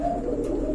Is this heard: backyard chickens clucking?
no